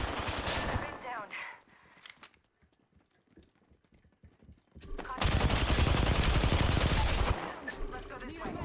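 Gunfire in a first-person shooter video game, dense bursts of rapid automatic shots, with a quieter gap between two heavy volleys and a voice talking over the action.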